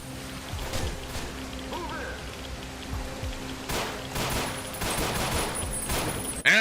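Video game gunfire in Ashes: Blackwater Doom mod, a dense crackle of rapid shots in bursts, some louder and closer, with a sharp loud hit at the very end.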